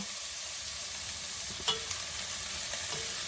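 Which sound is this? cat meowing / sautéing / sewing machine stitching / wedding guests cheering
sautéing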